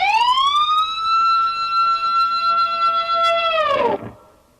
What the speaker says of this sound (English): would be that G harmonic bend